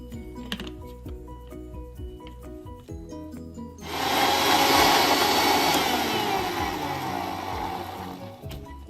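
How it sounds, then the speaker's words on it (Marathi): A mixer grinder blends watermelon, mint, sugar and salt, kicking in abruptly after quiet kitchen noises with a loud, steady whirring motor whine and churning slosh that runs on continuously and eases slightly toward the end. "आता हे सर्व साहित्य आपण मिक्सरला फिरवून घेऊया"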